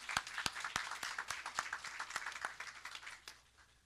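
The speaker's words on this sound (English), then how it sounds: "We give her a round of applause." Sparse applause from a small audience at a school board meeting, with distinct individual claps ringing out irregularly in a quiet hall and slowly thinning away.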